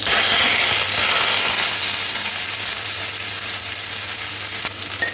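Sliced onions fry in very hot oil with nigella seeds, making a loud, continuous, close-up sizzle with a faint low hum underneath and no voices.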